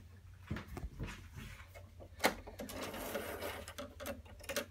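A Singer Heritage 8768 sewing machine sews a buttonhole, giving soft, close mechanical whirring and rapid ticking stitches in uneven bursts, with a sharper click partway through.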